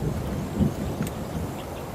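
Torrential rain pours over a south Florida swamp during a wild boar hunt, a dense steady wash of heavy rainfall with low rumbling undertones and wind, no talking.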